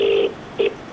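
Phone ringing on an unanswered call to a cloud kitchen delivery customer, two electronic ring tones, the first longer, with a short gap between them and no talk.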